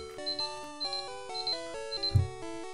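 Short chiptune jingle from the Pokémon Red game plays as a timer goes off: a run of bright, stepped square-wave tones in a quick melodic pattern, fairly close and clear, with no talk over it.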